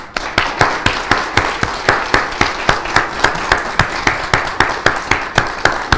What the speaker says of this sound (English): give our two presenters, our two panelists here, a great hearty round of applause